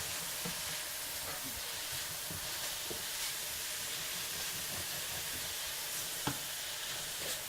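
Thin-sliced Philly cheesesteak meat warms on a hot griddle, giving a steady, soft hiss of sizzling with occasional small pops and crackles, faint and unbroken with no talking.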